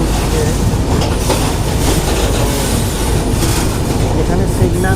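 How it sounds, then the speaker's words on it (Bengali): An Anga Express passenger train rolls into Bhubaneswar station, a loud, steady rumble of wheels and carriages with rhythmic clatter and occasional squeal, heard continuously from on board. "আমাদের ট্রেন এখন ভুবনেশ্বর স্টেশন ঢুকছে।"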